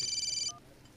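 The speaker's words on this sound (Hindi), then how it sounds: "जरा फोन आ गया।" A telephone rings with an incoming call in a close, indoor setting: a single bright electronic ring lasting about half a second, then cutting off to quiet.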